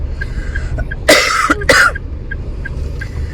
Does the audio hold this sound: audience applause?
no